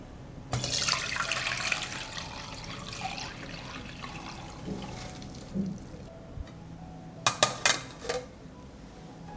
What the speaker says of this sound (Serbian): Čaj od koprive se ohladio i procedit ću ga.